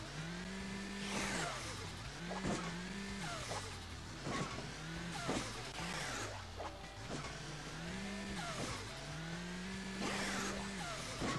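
A car engine in the Hill Climb Racing 2 game revs up and drops back in a repeating cycle, with quick bursts of acceleration and a few sharp knocks, fairly faint throughout.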